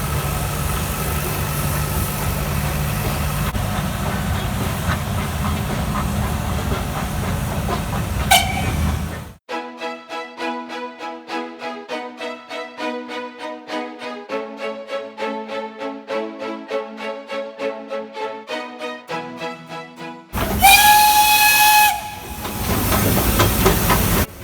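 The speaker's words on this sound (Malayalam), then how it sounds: "ഒരു സിനിമാ താരം വരുന്ന ഗ്ലാമറോടെ ആവി എഞ്ചിൻ പ്ലാറ്റ്ഫോമിലെത്തി" A Swiss-built Winterthur steam locomotive on the Nilgiri Mountain Railway at Ooty hisses loudly at a station. A musical tonal passage interrupts it, then the hiss returns with a short whistle tone.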